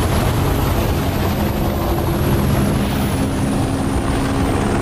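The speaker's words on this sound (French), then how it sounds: "comme là l'hélicoptère il est bien foutu." Helicopter in the video game Reach, a loud, dense continuous rotor and engine roar with low thumping and a thin high whine, steady throughout with no talk.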